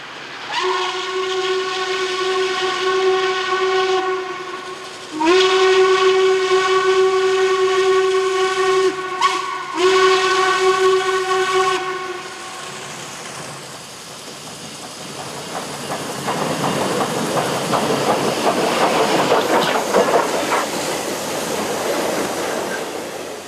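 Norfolk and Western 1218 steam locomotive storming past a sand tower while climbing a mountain grade, its multi-chime whistle sounding three long blasts before the heavy rushing chuff and rumble of the passing train swells and fills the rest.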